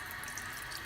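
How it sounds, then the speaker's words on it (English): Tap water runs steadily into a sink, a continuous broadband hiss with faint splashing texture, close and moderately quiet, no voices. "just add water"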